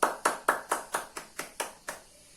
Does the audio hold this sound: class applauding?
yes